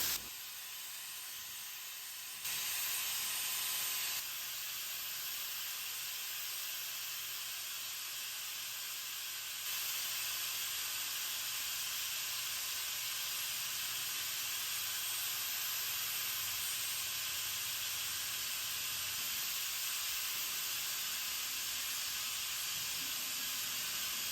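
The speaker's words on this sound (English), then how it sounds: "I am using Behr's water-based poly and matte, so I'm going to spray it on" A steady, loud hiss of spraying water-based matte polyurethane finish on furniture runs almost continuously, broad and airy like a sprayer misting, with brief shifts in intensity and no talk.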